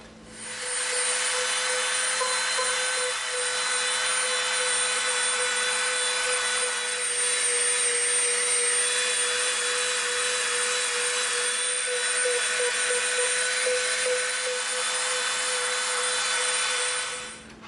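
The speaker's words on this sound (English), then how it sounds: "now we're gonna get out our smooth bit. We're gonna clean that up" A rotary tool with a smoothing bit runs steadily against the edges of an EVA foam Megaman sword, a continuous high whining grind that holds evenly for the full stretch with no talking.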